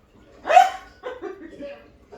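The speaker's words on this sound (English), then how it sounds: "He's a big baby dog." A big dog gives one sharp bark, then a few softer yips and grumbly vocal noises in close succession, indoors and near.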